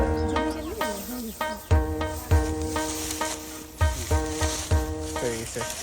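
Date palm sap boils down into patali jaggery in a rural northern Bengal village in winter. It gives off a crackling, sizzling bubbling in irregular bursts, fairly close, with some tonal sounds mixed in.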